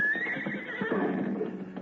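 A horse whinnies loudly and close in a radio drama, a shrill descending neigh that shudders into a rough, fluttering tail, with faint hoof clops beneath and no talking.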